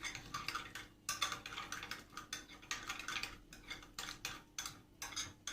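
Hot sauce stirred into a burger mixture with parsley in a pan, quiet steady scraping and clicking of a utensil in a brisk, repeating rhythm.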